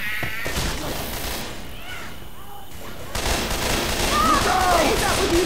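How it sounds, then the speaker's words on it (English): Dense video game gunfire in a shooter, a continuous wash of rapid shots and bursts, loud and busy, with voices calling out over it. "Stop shooting me!"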